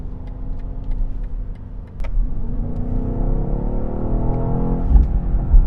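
A BMW XM engine with exhaust flaps open rumbles loudly and deeply, rising in pitch as it revs up with a throaty exhaust note.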